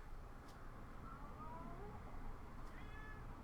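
A cat gives several quiet, drawn-out meows indoors against faint background noise.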